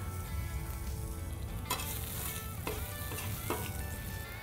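Chopped garlic sizzles in scallion oil on a hot cooking surface while a smash burger is made, a steady loud frying hiss with a few sharper crackles and scraping stirs, no voices.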